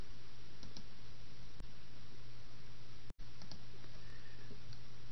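Computer mouse clicks while working in Excel, a few sharp light clicks scattered over a steady hiss, close by and isolated.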